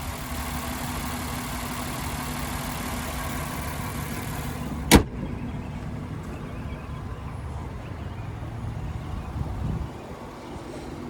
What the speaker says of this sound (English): And there's that 5-liter V8 there.